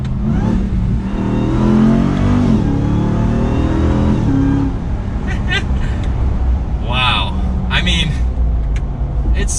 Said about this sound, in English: We'll listen to that supercharger whine, because that doesn't get old.